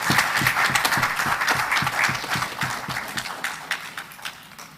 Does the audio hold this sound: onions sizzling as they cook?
no